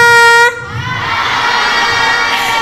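A brief blaring horn-like tone cuts off into a steady wash of crowd noise, like an audience clapping and cheering together at a school student orientation briefing.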